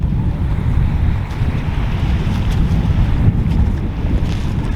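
Wind blusters at the Langstone Harbour entrance near Hayling Island. It is a loud, continuous low rumble of buffeting against the microphone, with rushing water underneath and no voices.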